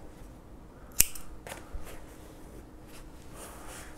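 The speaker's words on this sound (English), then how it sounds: "you'll want to chain one and cut your yarn." Scissors snip through yarn once while finishing a two-tone crochet scarf, a single crisp close cut alone in a quiet room, followed by faint handling rustle.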